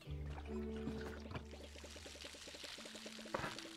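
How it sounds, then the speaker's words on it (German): Plants are watered with a watering can in the farming game Palia, giving a soft pouring, trickling water sound with a rapid bubbling rhythm over quiet game music. "Richtig schön gegossen."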